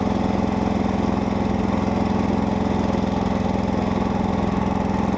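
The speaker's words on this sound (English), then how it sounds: "Here I shift up to third high, lower the plow, and the engine labors as the tractor gets going." A Roper RT/16 garden tractor engine labours under load while plowing snow in third high gear, a loud, steady mid-pitched drone with a rapid pulsing beat that holds constant throughout.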